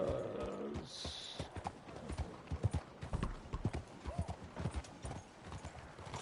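A horse clip-clops along in Red Dead Redemption 2, a near, steady run of hoofbeats, with a brief whinny and a faint bell-like tone near the start.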